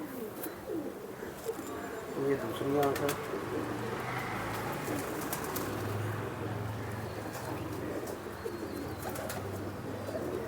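Pigeon coos from a five-to-six-year-old racing pigeon kept by a Jammu fancier, soft low rolling calls repeating under someone talking nearby, with bird chatter in the background.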